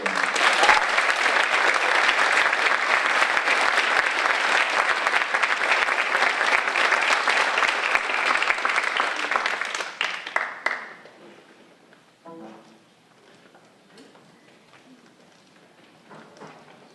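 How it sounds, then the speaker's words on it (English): Sustained loud applause from an audience honoring Red Hawk Award winners at a high school senior awards ceremony, dense steady clapping for about ten seconds before dying away into scattered claps and a quiet room. "Another round of applause for our Red Hawk Award winners."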